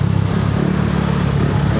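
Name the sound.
motorcycle exhaust engine revving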